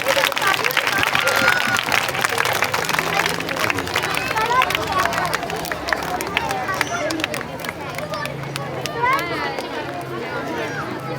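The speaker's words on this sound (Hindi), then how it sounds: "Please put your hands together and welcome our Little Stars." Crowd applause welcoming a children's performance at a school Independence Day event, steady dense clapping mixed with crowd chatter and children's voices throughout.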